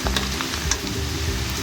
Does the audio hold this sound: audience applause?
no